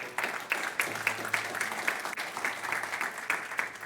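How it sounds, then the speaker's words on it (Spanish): A church congregation claps at a Christian community service, the sound moderately loud and slightly distant, with individual claps now and then standing out from the rest. "Denle un aplauso fuerte al Señor."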